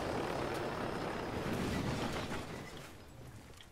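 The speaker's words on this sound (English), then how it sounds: "Chopper." A helicopter in the video game Ghost Recon Wildlands gives off a loud, steady rotor rumble that holds for about two and a half seconds, then slowly fades as if the aircraft moves away. No one talks.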